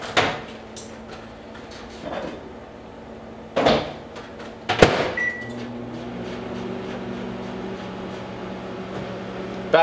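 A microwave oven hums steadily while heating vegetables, with a few sharp clunks of a door or cupboard and a brief beep partway through.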